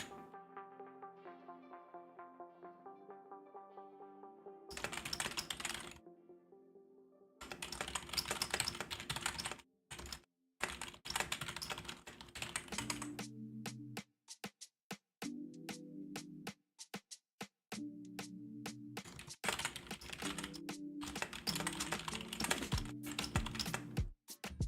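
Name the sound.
typing on a computer keyboard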